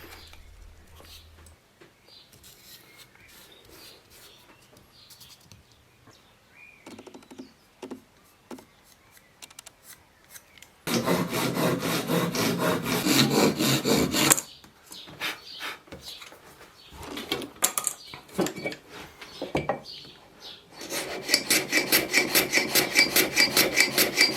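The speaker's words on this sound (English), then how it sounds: "I'm able to plane the pieces down gradually till I get a perfect fit" A hand plane shaving marquetry wood veneer pieces for a fan-tail design, giving dry rasping strokes in short bursts with pauses, then longer sustained runs of rapid scraping close up.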